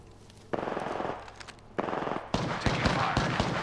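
Incoming automatic gunfire in a video game, loud sustained bursts with rapid repeating shots that grow denser and louder toward the end.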